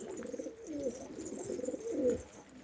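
Soft, low pigeon coos roll in a slow, throaty rhythm, fairly faint against a quiet outdoor background.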